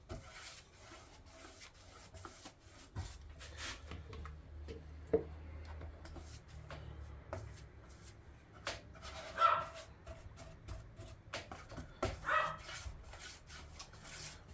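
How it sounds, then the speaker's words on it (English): A small puppy barks angrily at neighbourhood cats, sharp yaps scattered irregularly and fairly distant, mixed with faint rubbing and ticking from an epoxy resin woodworking workspace. "please excuse the angry barking of a little puppy."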